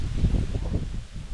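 Strong south wind blows across an open outdoor duck-hunting spot, buffeting the microphone with low rumbling gusts and rustling for just over a second.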